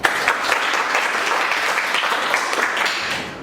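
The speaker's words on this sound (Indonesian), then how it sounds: "Untuk masing-masing kelompok, tepuk tangan dulu." Students in a milling machine classroom give a round of group applause, a fairly loud burst of many hands clapping that stays busy and continuous, then tapers slightly at the end.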